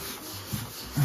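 A cloth rubs steadily across an inked mezzotint printing plate, wiping away excess ink in a soft, close, continuous scrubbing sound with a few brief, firmer strokes.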